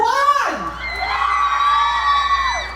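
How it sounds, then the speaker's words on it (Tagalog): A live audience at a comedy show cheering and shouting loudly in a sustained crowd roar with high whoops and yells rising over it. "Palakpakan at sigawan sa gusto niyong manalo"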